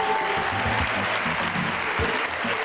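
An audience at a motivational event claps and cheers loudly, a sustained wash of noise with low voices and music-like tones mixed underneath.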